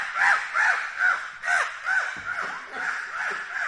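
Several harsh crow caws repeat in loose bursts, fairly close and loud, with no speech over them.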